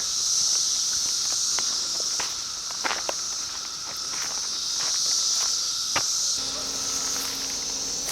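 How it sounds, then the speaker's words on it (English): A dense, steady chorus of 17-year cicadas near Ayersville, Ohio fills the air with an unbroken high buzzing drone, with occasional footsteps and small clicks nearby. "listening to the cicadas near Ayersville,"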